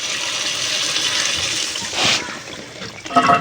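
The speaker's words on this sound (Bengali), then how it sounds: "আমি এবারে দিয়ে দেবো জল।" Water pours into a fried masala for a fish curry, a steady splashing stream close by that surges briefly before tapering off into faint clatter.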